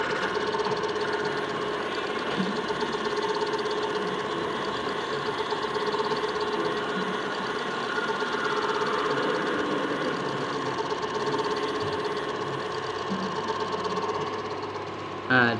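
A CNC turning lathe spindle spins up to cut a 25 mm workpiece, giving a steady whirring machine drone with a faint metallic ring that holds even through the whole stretch, with a voice occasionally heard over it.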